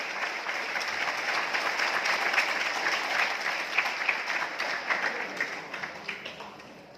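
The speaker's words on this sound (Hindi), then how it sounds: "एक बार मैडम के लिए भी मैं शानदार वाली तालियां करूंगा, जोरदार तालियां।" Sustained audience applause fills a hall at a product event for a rice bran oil brand, dense and steady before thinning into scattered, separate claps toward the end.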